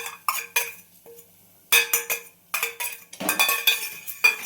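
Roasted ajwain seeds are stirred in a hot pot, the spoon making sharp metallic clinks and scraping rattles in irregular bursts, with short pauses between.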